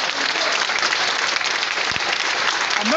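Audience at a transport workers' strike gathering in Port-Gentil, Gabon, bursting into dense, steady applause that fills the whole moment, loud and sustained without talk.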